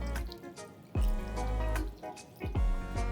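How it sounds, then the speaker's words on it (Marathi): Water goes into a tandoori potato gravy in a cooking pot, arriving in a couple of close, distinct splashing pours with a thin trickle between them. "ह्यात थोडं आता पाणी घालायचे."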